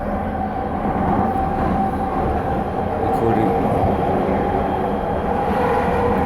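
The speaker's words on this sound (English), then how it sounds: "recording this inside one of the new trains." Inside a brand-new train in motion: a loud, steady low rumble and roar of the carriage with a constant broadband wash and no distinct clacks, unbroken throughout.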